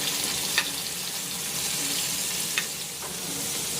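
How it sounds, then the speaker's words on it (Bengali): Fish fried in oil in a wok gives a loud, continuous sizzle, with a couple of sharp spatter pops standing out against the steady hiss. "মাছ ভাজার এই চ্যাট শব্দটা যেন রান্নার প্রাণ"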